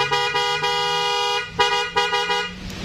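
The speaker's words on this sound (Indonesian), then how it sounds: "Ini klakson Denso." A Denso horn fitted to a Yamaha NMAX scooter blares in a loud steady tone, then gives several short repeated honks near the end, close up with no talking.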